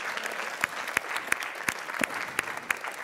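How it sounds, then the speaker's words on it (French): Audience at a basketball clinic applauds the players, a soft, fairly distant wash of clapping with several sharper individual claps landing at a regular beat. "Vous pouvez les applaudir"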